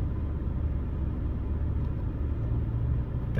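Road traffic rumbles on a busy street, a steady low drone of car engines idling and creeping past nearby, with no voices.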